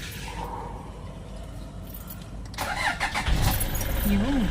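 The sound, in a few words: Toyota Fortuner engine cranking then stalling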